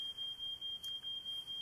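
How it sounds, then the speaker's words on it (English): A smoke alarm emits a continuous high-pitched electronic tone in rapid pulsing beeps, heard from nearby with no other sounds. "Smoke alarm."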